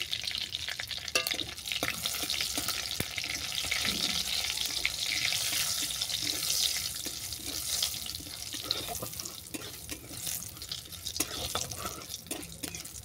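Oil tempering of asafoetida, dried red chilli and bay leaf sizzles steadily in a pan, a continuous hissing fry with faint stirring clicks and no talking.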